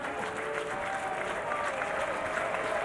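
College baseball crowd applauding and cheering at a Georgia Tech versus Oklahoma game, a dense, sustained wash of clapping and crowd noise filling the stadium with no pause.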